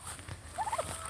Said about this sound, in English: So we just got the turkeys in